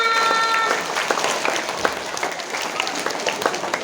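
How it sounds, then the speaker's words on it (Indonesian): Children clapping their hands together at a school religious gathering, a brisk patter of many small claps with a few voices and a brief sung tone at the start. "Tepuk tangan semuanya."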